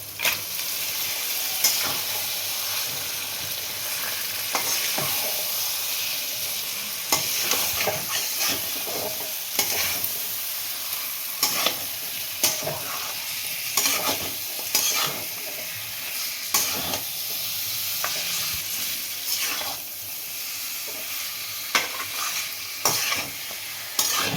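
Washed mutton stirred into fried Kashmiri spices in a hot pan, making a continuous loud sizzle and hiss broken by frequent scraping stirs and clatter, with no voices.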